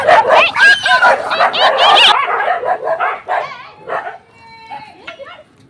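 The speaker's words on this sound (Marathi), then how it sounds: "कुत्र्यांचंच भांडणं चाललेली" Several dogs snarl, yip and bark in a noisy scuffle, loud and close at first, then quieter whimpers and yelps trail off.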